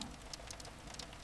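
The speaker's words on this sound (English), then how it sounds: "The rain deepened a few minutes ago. You can hear it now," Soft, steady rain falls outside the windows, a faint, even patter with a few slightly sharper drops, heard alone and quiet.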